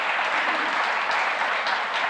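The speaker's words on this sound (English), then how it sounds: "please give them a warm round of applause" Dense, loud audience applause at a televised conversation event with a provincial premier, continuous clapping throughout with no speech over it.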